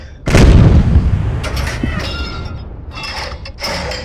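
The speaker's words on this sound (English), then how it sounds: "Firing at the destroyer." Naval guns firing at a destroyer in a Battle of Leyte Gulf naval video game: one heavy, booming shot with a long rumbling tail, followed by lighter mechanical clinks, with no voices.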